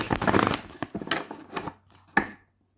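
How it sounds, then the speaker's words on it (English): A deck of tarot-style cards being shuffled by hand in quick riffling bursts with short pauses between them, close and alone. "Let's get the whole deck out."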